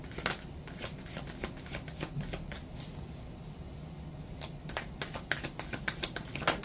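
Rapid, papery riffling and snapping of a deck of tarot cards being shuffled close by, in repeated bursts with brief pauses.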